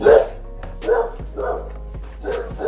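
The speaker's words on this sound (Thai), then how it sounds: "Sorry about my dog, he barking here." A pet dog barks in a series of loud, close woofs with short gaps between them, heard indoors during a package unboxing, with no talk over it.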